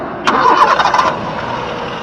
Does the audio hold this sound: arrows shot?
no